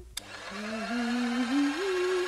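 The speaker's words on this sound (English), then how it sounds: "like using her food mixer for stirring paint" An electric food mixer whirs steadily while stirring paint, a continuous motor hum whose pitch drifts upward slightly, preceded by a brief click.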